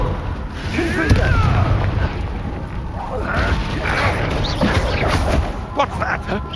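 Confringo spell blasts in the video game Hogwarts Legacy, rumbling booms and crackling bursts during combat, layered under continuous spoken dialogue and game effects.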